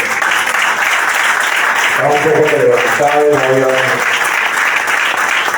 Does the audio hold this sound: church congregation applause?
yes